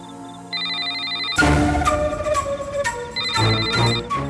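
A phone rings with an incoming call from home, playing a bright electronic ringtone melody in repeating phrases over a swelling musical background, with no talk.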